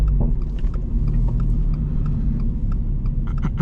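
A Toyota GR86 on a spirited night drive rumbles steadily from inside the cabin, the engine blipping and revving in short bursts during rough heel-toe downshifts, with no talking.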